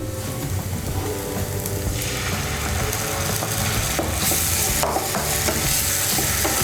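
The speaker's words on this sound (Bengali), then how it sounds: "টমেটো বাটাটাকে মিশিয়ে নেব" Tomato paste stirred into fried onions for a chilli egg dish: a spoon scraping and clattering in the pan over a steady sizzle, with rhythmic stirring strokes.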